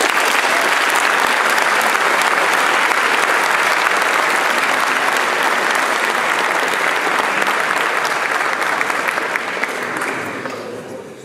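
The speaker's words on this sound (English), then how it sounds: "You may applaud." Sustained applause from an audience at a high school cadet academic awards ceremony, a dense even clapping that fills the room and holds steady before fading out near the end.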